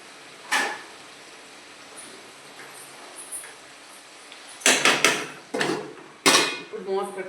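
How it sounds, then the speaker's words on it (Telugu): A metal lid is set on a cooking pot of dried fish and flat bean curry. Several sharp clanks and rattles come close together in the second half, after a lone clink early on, with quiet kitchen background in between. "ఇప్పుడు మూత పెట్టేసి కాసేపు మగ్గనిద్దాం ఫ్రెండ్స్."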